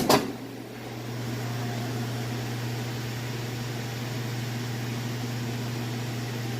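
A Kenmore washing machine spins at full speed on its final spin cycle, a steady smooth whirring hum with a low drone, preceded by a brief knock at the start and no talking.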